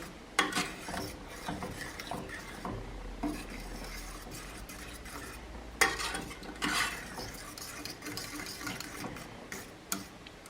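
A spoon stirs a chunky apple cranberry sauce in a pot, giving steady scraping and swishing strokes with sharper clinks against the pan's side, close and continuous with no talking.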